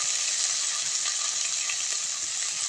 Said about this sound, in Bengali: সব মশলাগুলো একবারে দিয়ে আমি ভালো করে কষিয়ে নেব